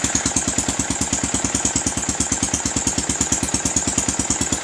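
Yamaha Vixion motorcycle engine idling with a steady, rapid, even putter of firing pulses, close and constant throughout with no talk.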